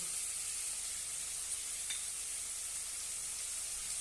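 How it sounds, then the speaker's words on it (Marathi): Red pumpkin with garam masala, turmeric and cumin sautés in a pan, producing a faint, steady, even sizzle that continues unbroken with no voices. "छानपैकी परतून घेऊया"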